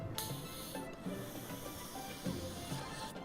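Truth spray hisses in the Lil Guardsman video game, a few short, soft spray bursts close by, quiet and breathy, with brief pauses between them.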